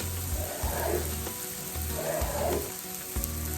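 Spam and kimchi fry in a pan for gimbap, a steady close hiss of sizzling oil with faint bubbling beneath it.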